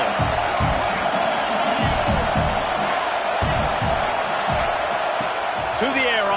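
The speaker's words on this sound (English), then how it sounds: "The crowd getting behind this defense as they try to get a stop in the red zone." Stadium crowd at a college football game, Arizona State at Michigan, roaring steadily behind the defense near the goal line, a broad continuous wash of cheering with scattered louder shouts and a few whistles near the end.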